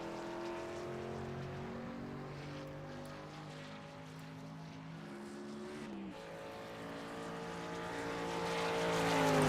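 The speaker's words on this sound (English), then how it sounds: "It looks like our first rolling truck will be the Plaza Pizza machine of Blaze Richardson." Race trucks lapping Auto Club Speedway in the iRacing simulator, a steady layered engine drone with several overlapping tones that dip around the middle and swell louder toward the end, with no voices.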